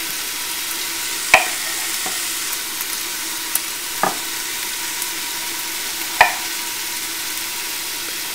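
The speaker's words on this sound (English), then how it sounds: "I love the smell of cooking onions." Chopped onions fry in a pan for a homemade marinara sauce, giving a steady close sizzle broken by a few sharp clacks of a spoon stirring against the pan.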